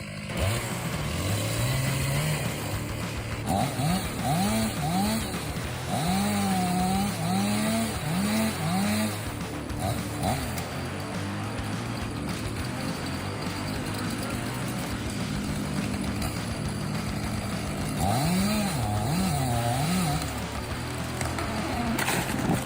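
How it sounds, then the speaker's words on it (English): A chainsaw engine roars continuously, its pitch rising and falling as it revs and bites, loud and close throughout. "The chainsaw's roar merges with the cracking sounds of wood fibers tearing apart."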